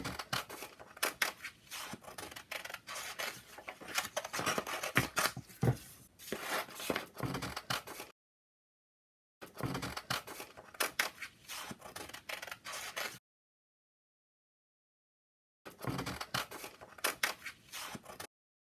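Paper snipped with scissors to cut out a hand-drawn flower shape for a stitched notebook page, in close, steady runs of crisp cutting strokes separated by two silent gaps.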